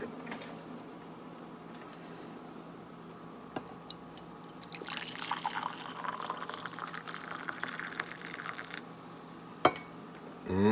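Hot coffee pours steadily from a Cuisinart PerfecTemp DCC-3200 coffee maker into a cup, a soft trickling that grows fuller midway, with a few small clicks and a clink near the end.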